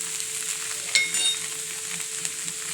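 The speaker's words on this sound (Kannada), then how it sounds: "ಈಗ ಬೆಂಡೆಕಾಯಿ ಚೆನ್ನಾಗಿ ಫ್ರೈ ಆಗಿದೆ." Okra frying in a pan, a steady close sizzle with a brief louder crackle and stir partway through.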